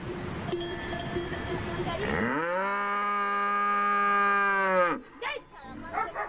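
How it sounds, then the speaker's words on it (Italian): Cows stopping on the way to an alpine pasture: one long, loud, close moo rises and holds for a few seconds, set against outdoor herd noise, with brief rustling and movement after it ends. "Luca concede alle sue vacche una tappa intermedia."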